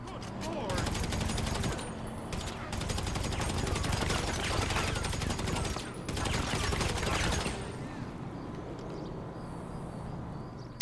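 Rapid gunfire from the video game GTA 5, shot at the Vinewood Mall, rattles in dense, continuous bursts for most of the stretch, with two short gaps, then gives way to quieter game ambience near the end.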